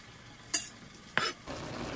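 Chopped garlic hits a pan with lamb for a stewed lamb leg and is stirred, giving two short sizzling scrapes followed by a steady, moderate frying hiss.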